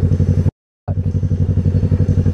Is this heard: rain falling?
no